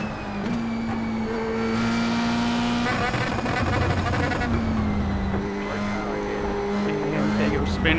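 Formula 3 race cars at the Red Bull Ring in iRacing, engines droning and whining at high revs as cars run close together, pitch shifting with gear changes, with someone talking over the racing.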